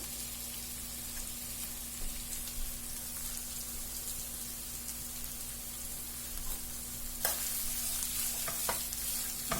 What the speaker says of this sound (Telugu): ఒక 3 మినిట్స్ ఫ్రై చేసుకున్నాము